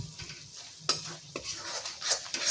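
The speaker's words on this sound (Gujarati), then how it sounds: "બધા જ મસાલાને આપણે સરસ રીતે મિક્સ કરી અને સરસ સાતળી લઈશું।" Spices being stirred and sautéed in a pan for a fenugreek-leaf (methi) gravy: soft, steady sizzle with a few sharper scraping strokes of a spoon against the pan, close and moderately quiet, no talking.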